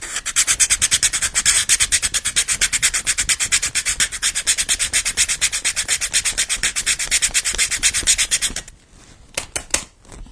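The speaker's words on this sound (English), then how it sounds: "I am going to just sand it a little bit so it sticks better" A painted piece for a paper lantern is sanded by hand with rapid, even back-and-forth rasping strokes, loud and close, stopping near the end for a few scattered scrapes.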